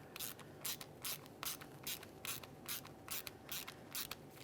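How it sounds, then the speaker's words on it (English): T27 mounting screws being driven into a plastic port on the air suspension valve block of a 2011-2021 Jeep Grand Cherokee, cutting new threads: a steady run of about a dozen sharp ratcheting clicks, close and evenly spaced, with no talk. "take those T27 mounting screws, and you want to try starting them into the port"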